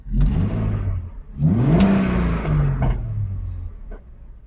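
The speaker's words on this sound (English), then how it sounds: "So let's listen when I rev the motor a little bit." A car engine fitted with a cone air filter revs twice, heard from inside with the windows closed, pitch climbing and falling with each throttle blip, then settles back toward idle with a steady rumble.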